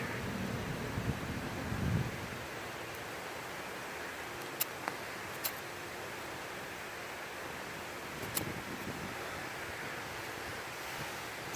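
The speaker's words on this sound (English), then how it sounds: "Could prove difficult with the wind up here." Wind blows across an exposed mountain top, a steady hiss and buffeting rumble against the microphone, with a few faint clicks.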